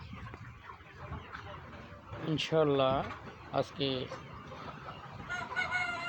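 Chickens cluck and squawk in a poultry farm flock of about 3,500 birds, a few louder calls rising near the middle over steady background fowl noise, while someone talks briefly.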